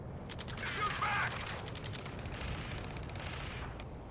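Gunfire from a firefight in the combat video game Ace Combat 7, a steady rattle of rapid shots and bursts over a rumbling battle din, with shouted voices mixed in.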